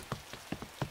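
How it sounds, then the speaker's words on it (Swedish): Heavy rain in a children's cartoon, heard as a handful of separate soft drops landing in an uneven rhythm, faint and alone with no talk. "Det regnar för häftigt för att det ska vara ute nu."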